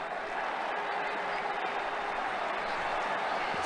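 Crowd applause in a cricket video game after a good shot, a steady, dense wash of clapping and crowd noise that runs loud and unbroken throughout.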